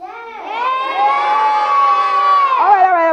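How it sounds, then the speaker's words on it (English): A group of young children yells and cheers loudly all together, a sustained shout swelling for about three seconds at an event with a clown storyteller, with no individual talk standing out. "Wait, don't yell so loud."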